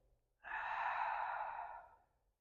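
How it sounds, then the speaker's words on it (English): A single slow, deep breath drawn in and let out during a calm mindful movement practice, soft and close, with a gentle airy hiss swelling and fading over about two seconds in otherwise quiet surroundings. "Let's just start with a deep breath in and a deep breath out."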